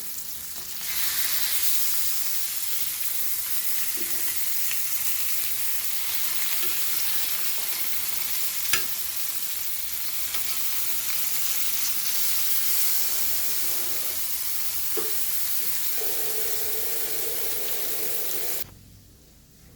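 Rava-coated Hilsa fish (pedve) sizzles steadily in a hot pan, a dense close frying hiss with a sharp tick midway and faint stirring, before the sound cuts off abruptly near the end.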